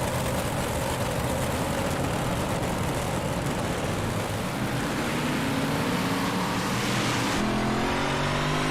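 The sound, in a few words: race cars in iRacing video game at Lucas Oil Speedway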